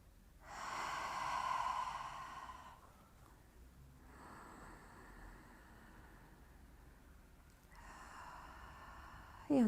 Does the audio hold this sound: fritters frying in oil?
no